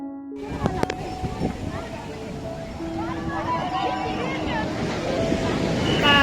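Ocean waves wash steadily at a beach, their broad rushing surf rising over a few seconds beneath people talking and children's voices nearby.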